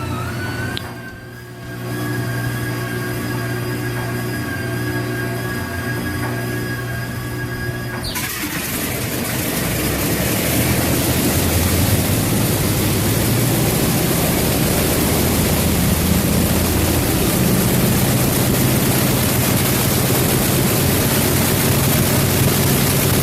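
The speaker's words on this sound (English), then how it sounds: "Hearing a freshly overhauled R2800 CB fire up" A freshly overhauled R2800 CB vintage radial aircraft piston engine starts up: a whining starter gives way to a sudden catch, then a loud, steady, rough roar that carries on without letting up.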